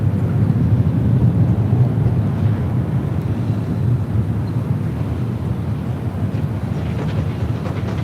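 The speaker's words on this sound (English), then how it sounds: "This is Southwest Airlines 3290 taking off to Houston Hobby on a 737-800" A Southwest Airlines Boeing 737-800 takes off with a loud, steady roar and rumble at LAX, broadband and continuous with some wind buffeting and no talking.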